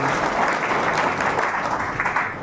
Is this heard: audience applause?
yes